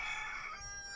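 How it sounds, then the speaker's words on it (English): A rooster crows nearby, a single sustained, strained call that fills the whole short moment with no talk, set against a low background rumble. "My roosters got excited."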